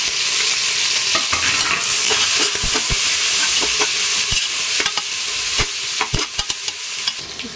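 Whole spices sauté in hot oil for biryani, a loud close sizzle with a dense crackle, punctuated by sharp stirring clicks and scrapes that grow more frequent toward the end.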